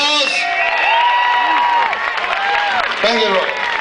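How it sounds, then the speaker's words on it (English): A large outdoor crowd at a health freedom demonstration outside Mansion House in Dublin claps, cheers and whoops loudly, with sustained shouts and voices rising over dense applause. "So I want you to give him a round of applause."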